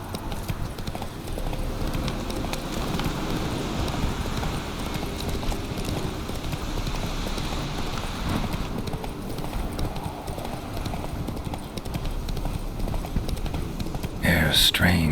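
Steady clip-clop of the horse Roach's hooves in The Witcher 3, a continuous rhythmic trot with faint ambient wind behind it and a brief sharper noise at the very end.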